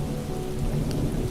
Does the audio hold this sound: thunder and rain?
yes